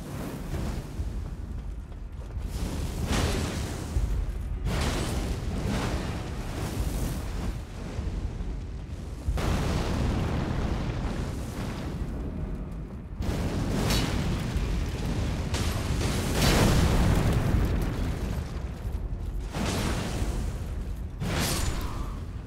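A boss in Elden Ring's Shadow Keep Church District hurls fire attacks, producing a steady roar of booming, eruptive blasts that swell and fade in waves, loud and close, with no voices.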